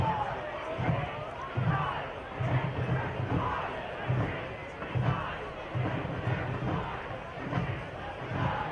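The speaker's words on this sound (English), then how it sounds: "Crowd doesn't like it" A stadium crowd at a Detroit City FC vs Rhode Island FC soccer match reacts to a slide tackle with a steady, dense roar and murmur, rising in recurring swells throughout.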